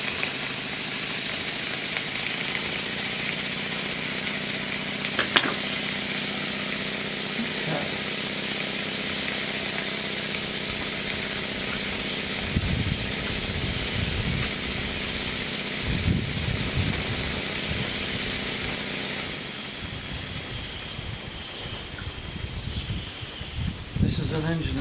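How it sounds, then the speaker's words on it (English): A Stuart 504 model steam engine runs steadily, giving a continuous mechanical hiss and chuff with intermittent knocking bursts as it settles after the safety valves are closed. "The safety valves one by one, and the engine should run properly after that."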